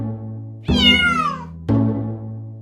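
A domestic cat gives two loud, close meows: a long, rising-and-falling cry, then a shorter second call about a second later, with a low steady hum underneath.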